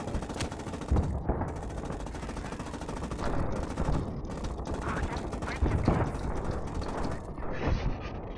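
A machine gun fires in dense, continuous automatic bursts during a Gates of Hell: Ostfront battle, loud and close, with the rattling rounds running almost without a break and filling the whole stretch.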